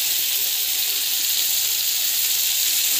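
Brinjal and vegetables sauté in a hot pan with a steady, close, hissing sizzle that stays even and unbroken, with no talking.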